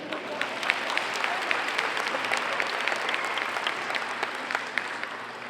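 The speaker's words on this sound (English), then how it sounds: "I believe that deserves an applause." A commencement audience bursts into applause, a broad, steady roar of many hands clapping with crisp individual claps poking through, sustained at moderate loudness for several seconds.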